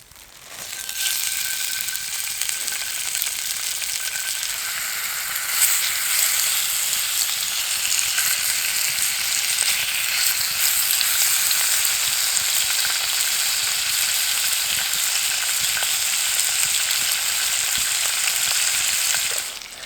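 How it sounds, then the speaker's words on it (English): Sausages and bacon sizzle loudly in a pan set over a bush box fire outdoors, a dense continuous frying hiss that swells soon after the food goes in and holds steady throughout. "I'm going to drop some couple of sausages and some bacon in there now."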